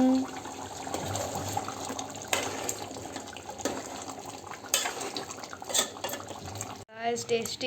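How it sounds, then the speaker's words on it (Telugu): Two glasses of water are poured into a pot of mutton curry, a close, splashing gush that runs for several seconds before ending, with a voice speaking over it. "మటన్ ఉడకడానికి 2 గ్లాసెస్ ఆఫ్ వాటర్ అయితే వేస్తున్నాము"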